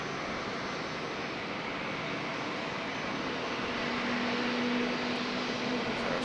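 A Boeing 717 passes at Charlotte Douglas airport with a broad, steady engine roar that swells slightly louder toward the end, a faint tonal whine rising over the rumble.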